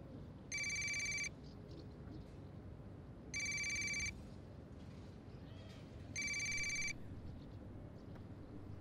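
A telephone rings in three evenly spaced electronic trills, each lasting under a second, over a quiet room background.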